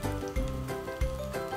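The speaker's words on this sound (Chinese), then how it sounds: "然后将鱼柳放落镬煎到佢变金黄色" A black sea bream fillet pan-fries in a wok with slices of ginger, giving a steady close-up sizzle with a couple of soft thumps, and no voices.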